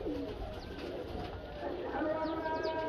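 Shahparwaz pigeons cooing steadily at close range, soft repeated coos over a busy background of other birds chirping and faint voices.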